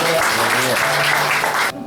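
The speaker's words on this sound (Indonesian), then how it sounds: "Tepuk tangan lagi" Applause from a church audience during an Easter sermon, a dense wash of clapping with a voice or musical tone sustained underneath, cutting off abruptly near the end.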